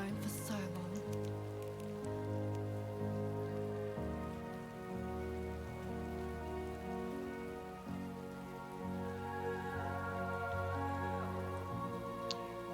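Rain falls steadily in the video game Death Stranding 2, a continuous patter under layered music tones that runs throughout at an even level.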